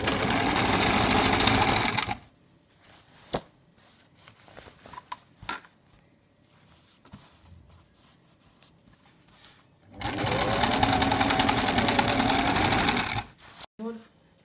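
Sewing machine stitching the side seam of a long gown, running loud and continuous in two bursts with a quiet stretch of handling noises and brief speech between them.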